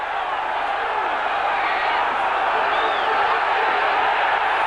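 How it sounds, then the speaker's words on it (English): Crowd at a world championship boxing fight cheering for Christophe Tiozzo, a continuous loud roar of voices filling the arena with whoops rising through it, under commentary. "They're cheering Tiozzo coming back."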